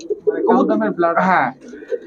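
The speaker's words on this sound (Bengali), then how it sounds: "এটা কি কবুতর ভাই সাদা শান্তির প্রতীক ভাই চুইনা চুইনা কবুতর কিন্তু কালদম ক্রস আছে" Pigeons at a seller's stall, including white pigeons and a kaldam cross, coo in close, repeated throaty calls that run continuously over the whole stretch.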